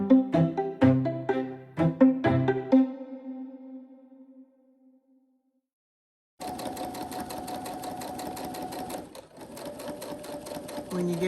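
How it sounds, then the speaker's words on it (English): A domestic sewing machine stitching down a cotton pillowcase seam, a close, steady mechanical whir with rapid needle clatter, preceded by a few sharp tonal hits that ring out and a short silence. "we're going to stitch all the way down"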